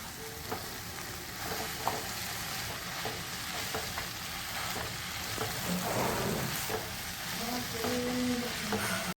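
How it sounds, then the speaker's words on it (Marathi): Spinach and potatoes with plenty of garlic sizzle steadily in a pan, with a constant frying hiss and repeated scraping and stirring sounds throughout. "आता आपण त्याच्यामध्ये पालक टाकून घेऊया तोही व्यवस्थित परतून घेऊया आपण"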